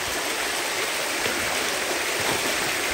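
Continuous rushing stream water at a natural pool near a waterfall in Afia, Kedougou, Senegal, a steady broadband wash heard close with no voices.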